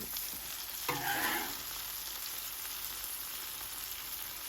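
Steak meat and onions sizzling on a Blackstone griddle for Philly cheesesteaks, a continuous loud hiss with a brief scraping stir near the start, close and steady.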